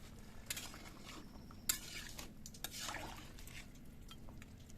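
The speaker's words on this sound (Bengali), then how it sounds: "হালকা করে একটু নেড়ে দেবো" Light stirring of a meat curry with potatoes in a pot: a few soft scrapes and utensil clinks over a faint, low simmer, quiet and close, with no talking.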